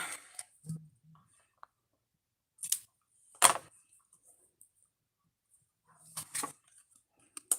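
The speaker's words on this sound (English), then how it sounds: "Ribbon scissors." Ribbon scissors snip during crafting, giving a few sharp, close cuts separated by quiet pauses, with soft handling noises between them.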